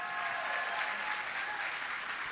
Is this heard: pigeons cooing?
no